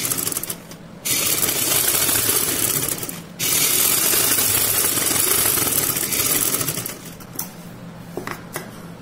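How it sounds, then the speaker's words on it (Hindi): A sewing machine stitches a bell sleeve with a loud, rapid mechanical clatter that runs in long stretches, broken by brief stops near the start and a looser stop-start run at the end. "हमने जो मोहरे के लिए कट लगाया था अब उसके ऊपर से सिलाई लेंगे।"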